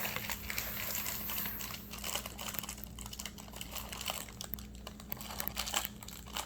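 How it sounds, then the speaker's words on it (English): A plastic graham cracker package being opened, with quiet crinkling and crackling of the wrapper in irregular bursts, close up and fairly soft. "And let's open our graham crackers. Be careful so that they don't go all over."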